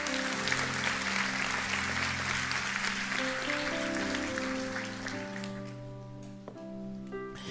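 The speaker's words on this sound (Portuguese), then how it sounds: "Dê um aplauso bem forte ao Senhor." A church congregation applauding, with a steady wash of clapping throughout and sustained organ or keyboard tones underneath that continue as the clapping thins toward the end.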